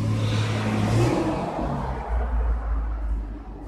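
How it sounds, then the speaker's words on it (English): A loud truck rumbles past nearby, its low engine drone swelling and then fading over a few seconds with no talk over it. "Also, loud truck."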